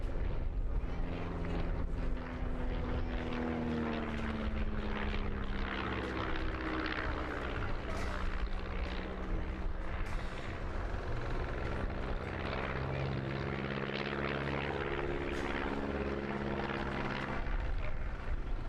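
Aerobatic plane performing loops, rolls and wingovers at the Parco Victory Festival air display, its engine a continuous droning hum with shifting pitch as it manoeuvres, moderately distant and steady throughout, with no talk over it.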